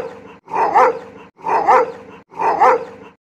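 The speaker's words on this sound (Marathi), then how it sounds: "मोकाट कुत्र्यांचा धुमाकूळ" Stray dogs barking in three evenly spaced, loud, close bursts, each a cluster of rough barks with short gaps between, no talking.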